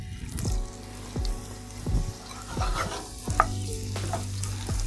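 Onions sizzle as they fry in melted butter, with a steady hiss broken by repeated spoon-on-pan scrapes and knocks from stirring, close up and without talk.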